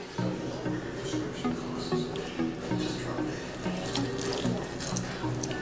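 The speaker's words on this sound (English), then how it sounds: "I'm about to pour some of this juice in my rice." Juice poured into a pot of rice while cooking at home, a steady liquid splash and trickle running continuously with a faint voice and kitchen background underneath.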